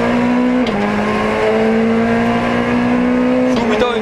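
Peugeot rally car at a stage start at the Prealpi Master Show near Le Rive, heard from inside as the engine screams at high revs with quick gear changes, loud and close under a co-driver calling pace notes.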